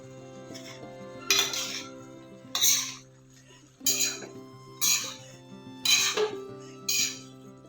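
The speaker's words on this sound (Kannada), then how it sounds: "ಈಗ ಕಾಲಿಫ್ಲವರ್ ಹಾಕ್ತೀನಿ" Cauliflower goes into a cooking pot for mixed vegetable curry, with a spoon clanking loudly against the metal in about six distinct bursts over a steady low kitchen hum.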